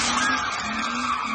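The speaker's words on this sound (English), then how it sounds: "A witness shared some video as the cars did donuts through the crowd." Cars spinning donuts through a crowd at a Milwaukee street takeover, with people hanging out of the windows, produce a steady, loud tire screech and skid over engine roar that continues without a break.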